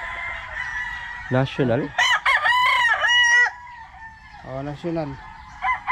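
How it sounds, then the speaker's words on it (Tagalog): Stag roosters at a gamefowl farm crow loudly and repeatedly, several overlapping calls in quick succession with a hen-like cluck mixed in, while someone speaks briefly between them. "ang gaganda ng mga manok nila rito"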